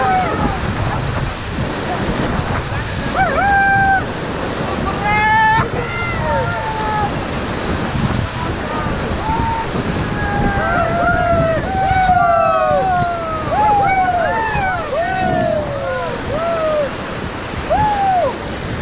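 River rapids on the Ganges during a rafting trip near Rishikesh give a loud, continuous rush of churning water, with wind buffeting the mic, while voices shout and call out over it throughout.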